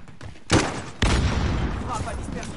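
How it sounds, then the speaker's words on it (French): Rocket shot fired at long range in a video game: a sharp launch thump followed a moment later by a heavier blast with a lingering roar, with a voice speaking under it. "J'ai fait un tir de loin avec le roquette"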